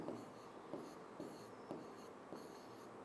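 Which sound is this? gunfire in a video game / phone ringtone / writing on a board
writing on a board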